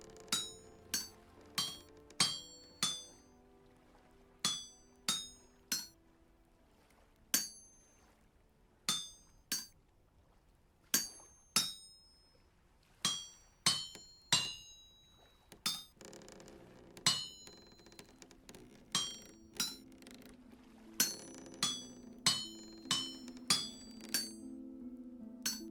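Metal hammered on an anvil in the video game Vintage Story, sharp ringing clanks struck one at a time in irregular bursts, bright and close, with short gaps between blows and no talk.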